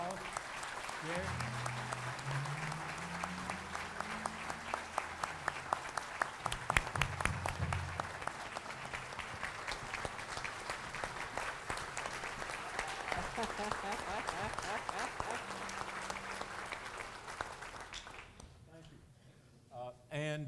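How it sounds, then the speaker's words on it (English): Sustained applause from a convocation audience at a college ceremony, dense clapping filling the room with a few louder claps, a voice briefly heard over it near the start, fading out at the end. "Let's give him a round of applause"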